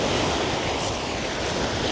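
Waves washing onto the shallow beach of a campsite at Tolo in Greece's Peloponnese, a continuous loud rushing wash with breezy noise, near and unbroken, no voices.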